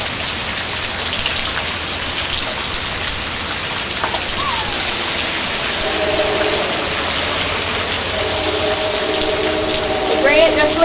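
Steady rain pours down outdoors, a dense, even hiss on surfaces that fills the whole stretch, with faint tonal sounds rising in the background toward the end.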